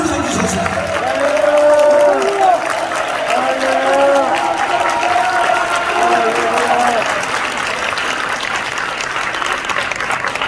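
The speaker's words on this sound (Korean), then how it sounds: "박수 드려주셨습니다." Audience applause in a church youth rally hall welcoming a pastor to the stage, a steady dense clapping swell that peaks early and holds, with a crowd murmur and music tones underneath.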